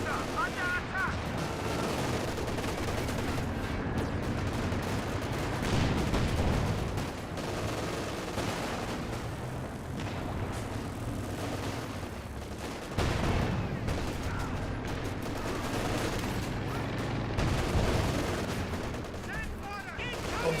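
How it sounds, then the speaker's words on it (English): Anti-tank gun and MG34 machine gun fire during a Company of Heroes 2 battle, a dense, continuous barrage of shots and booms under music and game noise, with no clear voice. "Good AT gun shot there onto the AVRE."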